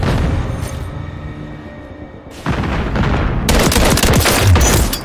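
Sustained gunfire in Call of Duty: Modern Warfare 3 team deathmatch on the Skidrow map, a dense loud roar of rapid shots that thickens into heavier bursts and booms partway through, with no talk over it.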